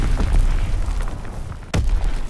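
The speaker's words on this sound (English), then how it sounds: "Sending mortar rounds." Mortar round explosions in a WWII video game make booming blasts under a rumbling background, with one sharp, loud burst near the end.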